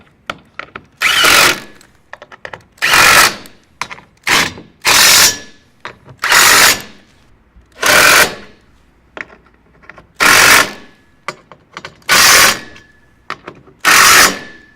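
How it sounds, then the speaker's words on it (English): Bolts on a comfort sleeper bed frame are tightened with a ratchet, giving about nine loud, close bursts of clicking, each lasting roughly half a second, separated by short pauses and faint handling noise. "So now all the bolts are in, so I'm going to go ahead and tighten them"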